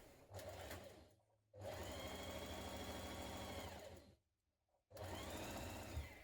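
A sewing machine stitching a shoulder seam, its rapid needle chatter running close and steady in three bursts with short pauses between, and no voices.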